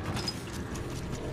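A weapon reloads in Apex Legends Mobile, a quick run of metallic clicks and clacks close up.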